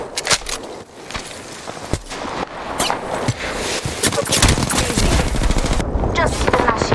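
Rapid bursts of video game gunfire crackle loudly and almost continuously through a multiplayer shooter match, with automatic fire, scattered single shots and clattering action sounds layered together.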